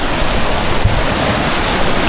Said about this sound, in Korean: 폭포수 한번 맞아보겠습니다.